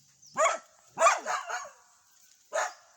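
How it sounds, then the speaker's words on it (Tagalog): Three sharp dog barks, the first two close together and a third after a short pause, fairly near and loud with quiet between. "Alagang aso."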